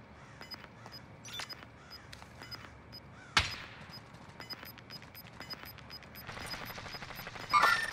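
Gunfire in the video game Call of Duty: Modern Warfare crackles faintly in scattered shots and short bursts, with one loud, sharp report standing out and a denser volley near the end.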